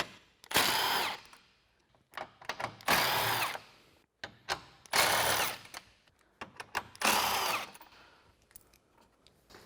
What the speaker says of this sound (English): I'm switching over to an impact gun and a deep socket